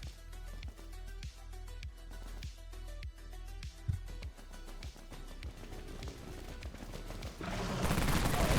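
Dawn Mag machine gun from Dead Frontier firing in the Deep Wastelands: regular, evenly spaced heavy shots thump along at a steady rhythm, then a louder burst of noisy action takes over near the end.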